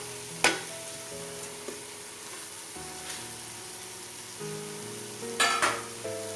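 Carrot, coriander and curry leaves stirred in a pan, a spoon scraping and clacking against the metal in a few sharp knocks over a soft, steady sizzle, close and fairly quiet with no talk.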